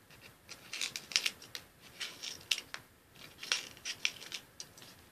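Scissors snip through a cotton ball in a quick series of sharp, close cuts, with several crisp clicks and brief pauses between them.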